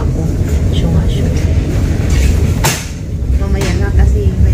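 Train interior while riding, with a steady low rumble and broadband rolling noise throughout, a brief sharp clatter midway, and someone talking over it.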